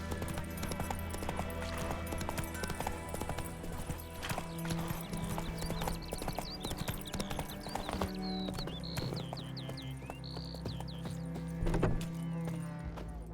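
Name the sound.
horse Roach galloping in video game The Witcher 3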